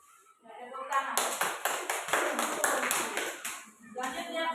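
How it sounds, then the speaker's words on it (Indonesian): A classroom group claps after a student group's presentation, a burst of quick, close hand claps lasting a few seconds, with voices heard before and after. "tepuk tangan"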